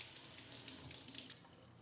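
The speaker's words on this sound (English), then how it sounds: "rinse my fingers" Water from a kitchen tap runs steadily with a soft, even hiss and splash as fingers are rinsed beneath it during gluten-free sourdough making. It is heard close up and alone for under two seconds.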